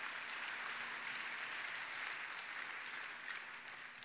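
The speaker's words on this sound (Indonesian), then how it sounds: "Tepuk tangannya boleh yang meriah buat Tuhan" Church congregation applause during a Good Friday service, a dense, even roar of many hands clapping continuously, fairly distant, with no voices above it.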